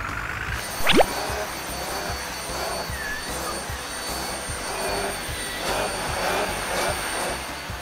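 A vacuum cleaner drones steadily throughout with a constant high whine, and a brief rising whistle near the start.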